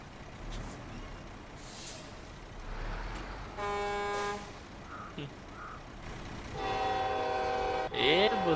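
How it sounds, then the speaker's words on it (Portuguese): Truck horns sound in the SnowRunner video game. A steady tone blares near the middle, then a louder multi-tone horn follows near the end, over continuous engine and air-brake noise. "Buzina forte."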